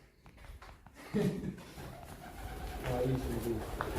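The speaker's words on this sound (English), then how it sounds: "Pigeon, man." Pigeon in an abandoned building: a few soft coos and rustles, close by, with someone talking over them.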